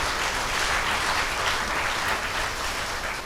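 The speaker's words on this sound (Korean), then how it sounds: "큰 감사의 박수를 올려주시면 좋겠습니다" Audience applause at an inauguration ceremony in a hall, a dense sustained clapping from a large crowd, steady and fairly loud for the whole stretch with no speech.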